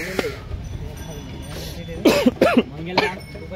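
A person with a lingering cough coughs a few times in close, sharp bursts, two of them quickly paired, against quiet background murmur after an outing to the Pimpalgaon Hareshwar village fair.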